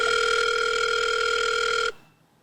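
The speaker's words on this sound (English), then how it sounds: "Oh, my phone's ringing." A mobile phone rings with a steady electronic tone, loud and close. It stops abruptly and leaves near silence.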